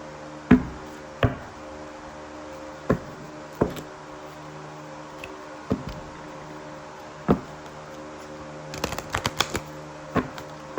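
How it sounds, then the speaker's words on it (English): Cards are shuffled and tapped in sharp, separate snaps every second or so, ending in a quick riffle, with no voices. "While I'm shuffling here"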